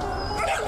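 Dog whimpering and yipping at an outdoor shelter pet adoption fair on a city boulevard, with a steady crowd hum and faint voices underneath the short, close whines.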